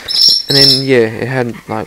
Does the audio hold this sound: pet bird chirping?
yes